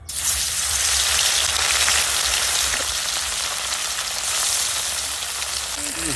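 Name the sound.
fish frying in hot oil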